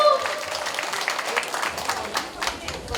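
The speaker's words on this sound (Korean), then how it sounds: "큰 박수 다시 한번 주세요." Guests at a dance club gathering in a Seoul colatec clap and cheer, uneven bursts of applause from a small crowd mixed with excited voices and talk over the top.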